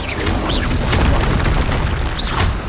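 A loud booming blast from the Confringo spell in Hogwarts Legacy, a broad rumbling explosion sustained for a few seconds with whooshing sweeps on top, no speech over it.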